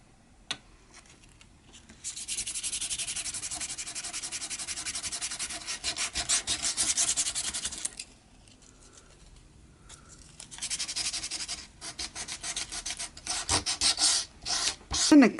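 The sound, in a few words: sanding chipboard pieces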